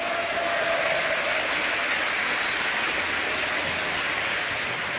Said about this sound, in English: Give a cheer for Millennium ForGG.